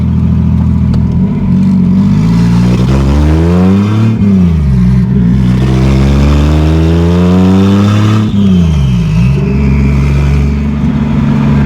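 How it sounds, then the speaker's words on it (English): A 1987 Toyota Supra with a turbocharged 2JZ-GE engine, a project car with a boost fault, revs loudly and close, climbing and falling in repeated sweeps with a strong droning roar and mechanical clatter. "That turbo's loud though."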